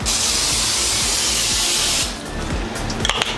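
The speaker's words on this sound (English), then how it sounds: "I'm just gonna spray it" A loud, steady cooking spray aerosol hisses for about two seconds, then stops, followed by faint rustling and light clicks.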